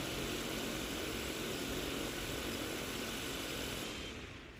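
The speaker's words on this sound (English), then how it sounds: "That motor you see now, it stopped much quicker." An Arris M900 drone with a weak motor spins up in a steady, loud propeller whine and hum, then winds down toward the end.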